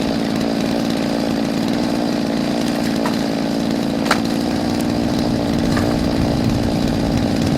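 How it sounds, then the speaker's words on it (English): Chainsaw running steadily while cutting wood in a back yard, a loud continuous buzzing drone that holds throughout with only slight shifts in load. "I thought I was going to have trouble with this chainsaw."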